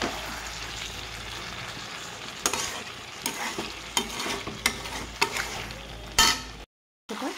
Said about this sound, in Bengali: মাংস মোটামুটি কষানো হয়ে আসছে।